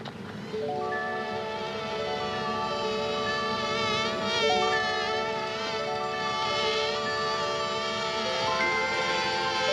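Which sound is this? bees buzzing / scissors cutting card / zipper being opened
bees buzzing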